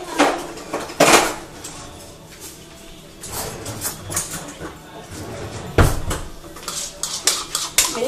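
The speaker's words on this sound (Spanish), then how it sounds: "Voy a agregar la media cebolla picada." Chopped half onion dropped into a pan while making tuna patties, heard as a few clattering knocks of pan and utensil against a quiet kitchen background, with two sharper hits near the start and one later.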